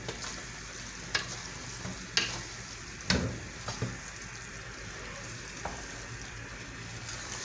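Spaghetti sizzles and cooks in a pan, with a steady frying hiss broken by a few sharp stirring knocks and scrapes, close and fairly quiet, no voices.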